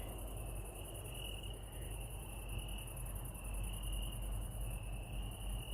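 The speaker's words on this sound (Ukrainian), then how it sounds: "цвіркуни співають." Steady, high-pitched cricket chirping fills a quiet village night under a full moon, continuous and even, with no voices.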